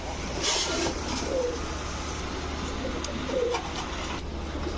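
Pakistani high-flyer pigeons give soft, repeated coos at moderate distance, a few brief calls over steady low traffic rumble and background noise.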